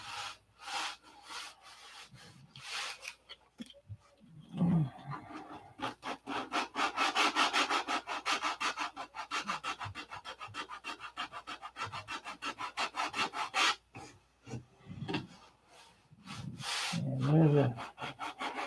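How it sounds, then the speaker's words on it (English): Fillets are hand-sanded with close, rhythmic back-and-forth rasping strokes that run in a steady series of bursts, with brief talking near the start and end. "hopefully you can see the technique I'm using to sand this out"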